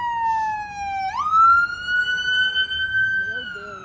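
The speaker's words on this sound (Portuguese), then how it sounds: "ambulância, gente, ó" Ambulance siren on a Manhattan street, a loud wailing tone that sweeps down, jumps up and holds steady as it passes close by, with faint traffic and a little speech beneath.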